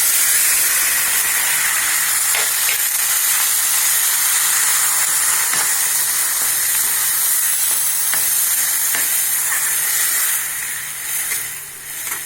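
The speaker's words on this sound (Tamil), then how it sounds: "அது தக்காளி எடுத்து நம்ம ஊற்றிடலாங்க. பச்சையாக அரைச்ச தக்காளி தாங்க இது." Ground raw tomato is poured into hot oil with curry leaves for tomato kuzhambu, a loud steady sizzle and hiss that eases slightly near the end.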